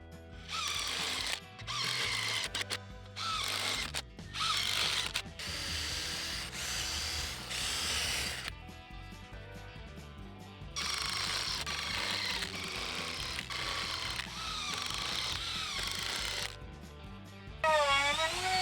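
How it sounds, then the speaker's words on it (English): A power drill pre-drills and drives screws into a treated wooden deck railing, whining in repeated bursts with ratcheting clatter and short gaps, loud and close, with no talk. "I go back through pre-drilling and screwing the rest of the rails, using a total of 14 screws per rail."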